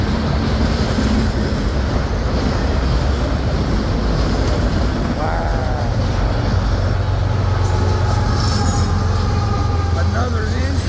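A CSX freight train hauled by two engines roars past at high speed, a loud, sustained rush of rail noise with wheel squeal and rumble, very close, with no talk.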